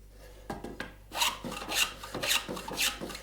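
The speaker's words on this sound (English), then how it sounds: "take a plane, and I can shoot the edge off like that" A hand plane shoots the edge of thin wood fan sections with a series of rasping, scraping strokes, several short ones followed by longer, louder passes at a steady rhythm, close and alone.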